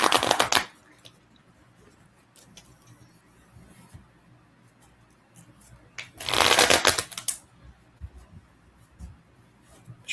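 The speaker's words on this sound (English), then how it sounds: "do a blind shuffle here" A deck of cards for the X-Files collectible card game being blind-shuffled by hand, two distinct riffling bursts, one brief at the start and a longer one later, close and clear with faint room noise between.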